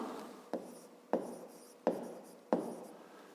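Pen writing on paper during a fifth-grade math exercise, heard as five quick, close strokes at a steady rhythm with a soft scratching wash between them, no voice.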